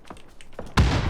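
A grenade explodes in a shooting video game: a few faint clicks and taps, then a sudden loud, close blast that roars on to the end of the clip.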